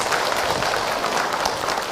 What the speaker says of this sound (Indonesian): Tepuk tangan buat Mbak yang berbaik.